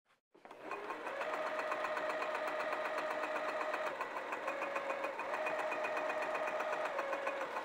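Sewing machine stitching a flannel tunic: a steady, close mechanical hum with rapid regular needle clatter runs almost the whole time, with a brief pause midway before resuming.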